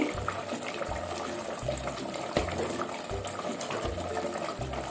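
Measured water pours steadily into a pot for Thalapakatti dum biryani, a continuous splashing fill with a rhythmic low churn beneath.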